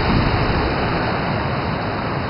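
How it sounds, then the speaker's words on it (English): A waterfall roars as a steady, dense broadband rush, close and loud, with no pauses or other sounds over it. "that's the final waterfall of the whole thing"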